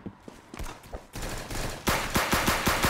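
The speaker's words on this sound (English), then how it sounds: "the bullets are flying in this game" Rapid gunfire from the Roblox game Arsenal, a dense run of sharp shots that grows louder and more rapid toward the end, close and continuous with no talk.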